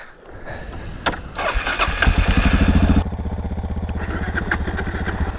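A Suzuki DR-Z400S dirt bike on a motocross course fires up with a few cranking pulses, then settles into a close, steady thumping idle.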